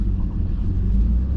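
Inside a moving car, a steady low engine and road rumble fills the cabin, close and continuous, with no voices.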